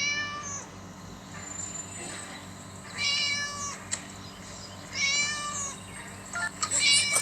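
A game cat in Scary Teacher gives several repeated meows, fairly clear against a steady low background hum, with pauses between calls.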